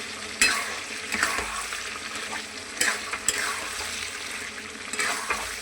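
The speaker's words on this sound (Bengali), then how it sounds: "তারপরে এই তো কষাতে শুরু করেছি।" Chicken stir-fried in a pan, with a moderate sizzle and irregular scraping strokes of a spatula every second or so, heard close and without speech.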